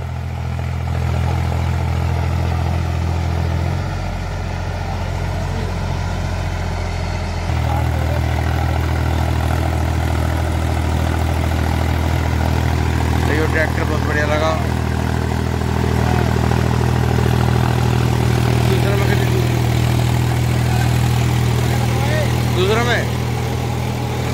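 A three-cylinder 40 HP tractor runs under load while pulling a seven-foot rotavator, giving a steady, loud, close engine drone with a slight change in tone partway through. Someone talks over it at times.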